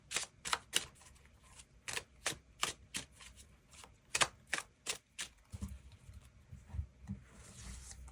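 Tarot cards being shuffled and drawn in a quiet room, a series of crisp, close snapping and riffling bursts in an uneven rhythm, with softer rubbing and handling sounds at the end.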